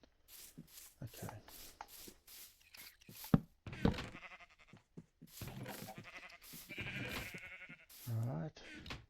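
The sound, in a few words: sheep bleating in a video game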